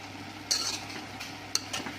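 Sweet jaggery rice being stirred in a pot: a few soft scrapes and light spoon clinks against the metal over a quiet hum, close and faint, no voices.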